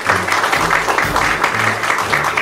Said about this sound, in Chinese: 我们再次热烈掌声给刚刚得到奖的人